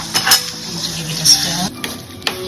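Chicken with pepper and ginger is stirred in a pan for Singapore rice vermicelli, with a few brief scraping clinks of a utensil against metal over a low background.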